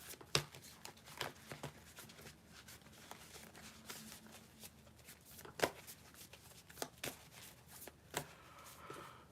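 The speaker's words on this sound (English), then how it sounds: "Let me shuffle these cards again." Playing cards being shuffled in several quick riffles, sharp clattering bursts spaced across the clip, close up with no talking.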